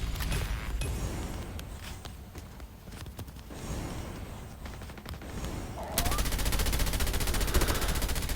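Rapid bursts of Call of Duty: Mobile gunfire crackle in quick, repeated volleys, turning into a dense, sustained stream of shots toward the end.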